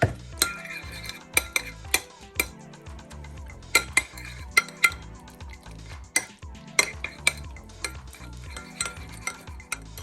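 Spoon stirring and clinking against a bowl as gluten-free paratha batter is mixed with milk, with sharp repeated taps and scrapes in an irregular rhythm, close and fairly clear.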